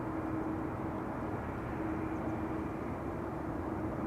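An Embraer jet taxis slowly at Schiphol Airport, its engine giving a steady, distant whine and broad roar that holds evenly throughout, with no voices.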